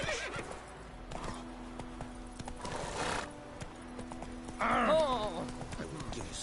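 Roach, a horse in a video game, gives a loud rising whinny near the end after soft hoof clip-clops and snorts, with a faint musical hum underneath.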